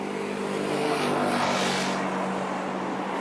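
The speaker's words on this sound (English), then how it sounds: "Few cars passing by." Cars pass on a dry London street at six on a freezing morning, giving a broad, steady whoosh of tyre and engine noise that swells slightly mid-way, with no voices.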